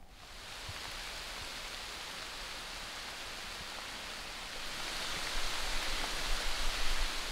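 Heavy rain pours steadily along the Colorado Trail, heard from shelter under a tree as a dense, even hiss that grows slightly louder toward the end.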